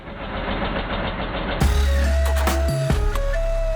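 Royal Enfield Classic 350 motorcycle engine during acceleration testing, a loud low thumping drone that steps up in pitch partway through, close and continuous with no voices.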